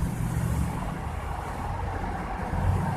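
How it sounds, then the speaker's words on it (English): A car engine with a new digital-gauge distributor idles at a very low idle, a steady, quiet low rumble with no one talking. "when my car is idling, and my idle is real low, you could barely hear the engine when the car is running."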